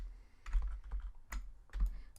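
Several close computer key presses and mouse clicks, irregular and fairly quiet, with no voice.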